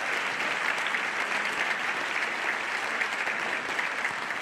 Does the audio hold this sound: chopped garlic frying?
no